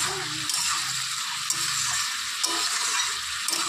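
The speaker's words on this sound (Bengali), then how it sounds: "তো ঢাকনাটা খুলে আবার একটু নেড়ে চেড়ে দিচ্ছি।" Ridge gourd fries in a pan with a steady close sizzle and hiss, while a utensil stirs it with occasional light taps and scrapes, and a voice speaks faintly underneath.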